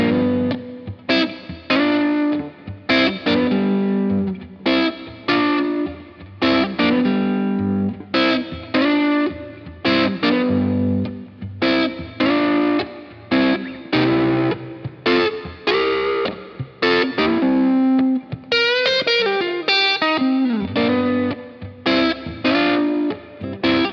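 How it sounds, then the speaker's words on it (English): An electric guitar is played through an amp with a short slap delay and light reverb. Clean chords and notes ring in a steady rhythmic pattern for the whole stretch, loud and alone. "a little bit of slap from the Free the Tone, a little bit of reverb from the Polera, just to give it a little bit more body"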